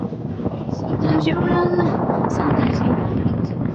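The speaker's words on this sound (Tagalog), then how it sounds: "Mahangin pala dito." Gusty seaside wind buffets the microphone with a steady rushing roar at a restaurant, while voices murmur faintly underneath.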